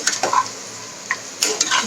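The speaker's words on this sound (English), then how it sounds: "I'll give it a gentle mix" A spoon scrapes and clinks against a pan while potatoes and drumsticks fry with Shahi garam masala, giving a few quick stirring strokes over a faint sizzle.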